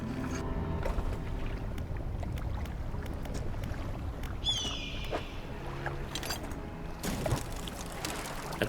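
A jet ski engine in the fishing video game Dredge drones steadily with water wash over it, a continuous close boat sound with a brief rising whine partway through and no talk.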